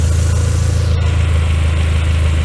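A car engine idles steadily close by after a drive, its gearbox warm, with a continuous low rumble and a constant harmonic hum that never changes pace.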